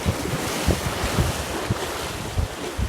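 Wind sweeps across a lake during bass fishing, a loud continuous rush with irregular low gusting thumps on the microphone.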